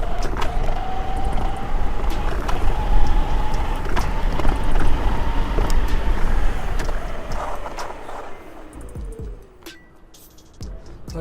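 A Teverun Fighter electric scooter accelerates hard toward top speed, a rising whine climbing over loud wind and road rumble, then easing off as it slows near the end.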